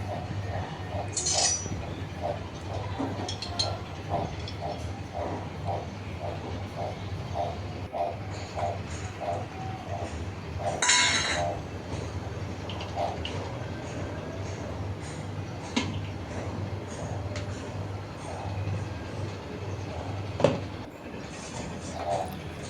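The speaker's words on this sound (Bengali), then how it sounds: "এখন আবার নাড়াচাড়া করে সব মিশিয়ে নিচ্ছি।" A spoon stirs and mixes biryani in a pot, giving a long run of rhythmic metallic clinks and scrapes against the pot with a few louder knocks, close and steady over a low background hum.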